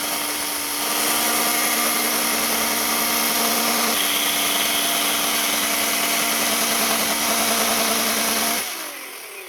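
A small, high-torque chainsaw cuts along the grain of wood to make noodle-like strips, its engine a loud, sustained whine held for several seconds before cutting off abruptly near the end.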